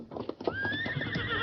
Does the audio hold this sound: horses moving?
yes